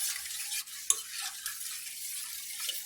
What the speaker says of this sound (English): I am going to stir this non-stop